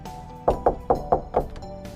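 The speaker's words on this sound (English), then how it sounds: "Knock, Dad." Someone knocks on a wooden door five times in an even, steady rhythm. The knocks are close and distinct, and a faint room tone sits underneath.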